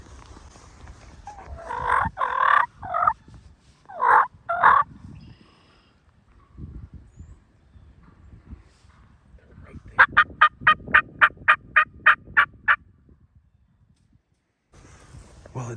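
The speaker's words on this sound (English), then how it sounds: "Still a bunch of birds back here gobbling." Wild turkeys gobble on a rainy Michigan morning hunt, loud rattling gobbles in bursts, then a rapid run of about a dozen sharp calls, with faint background noise and quiet moments between.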